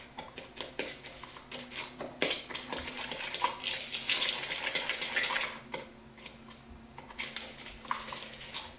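A fork stirring and mashing maple syrup with brown sugar in a bowl, repeated light scraping and clinking strokes in an uneven rhythm, close and moderately loud, with no voices.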